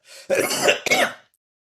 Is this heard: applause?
no